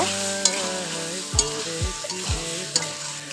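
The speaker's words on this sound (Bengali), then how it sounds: "এবার দিয়ে দেবো মাশরুম আর মটরশুঁটি এখন এগুলো ভালো করে কষিয়ে নিব" Mushrooms and peas are sautéed with potatoes in a pan, a steady frying hiss broken by several sharp stirring scrapes and knocks of a spoon against the pan, with no voices.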